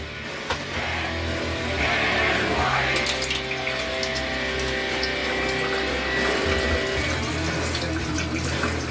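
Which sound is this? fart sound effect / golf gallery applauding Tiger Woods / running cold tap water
running cold tap water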